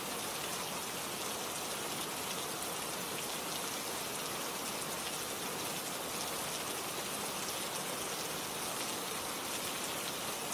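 Rain falls in a steady, even hiss of many drops, continuous and unchanging throughout, with no voices.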